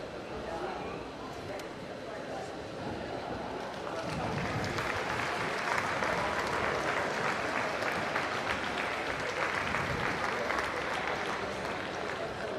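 A crowd at a national climbing championship lead final applauds the athletes: sustained dense clapping and cheering that grows fuller after a few seconds and carries on steadily, with voices mixed in.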